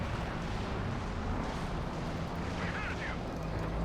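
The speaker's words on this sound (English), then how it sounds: "Panther taking a face full of rocket strikes here from Isildur's Katyusha rocket launcher" A Katyusha rocket launcher's strikes pound a Panther tank in Company of Heroes 2, a continuous rumbling barrage of overlapping explosions at a steady level while a voice speaks.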